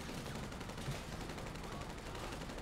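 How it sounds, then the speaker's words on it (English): Dense, continuous bursts of game gunfire rattle through the whole stretch, a loud unbroken barrage of rapid shots. "and then you just hear all the gunfire."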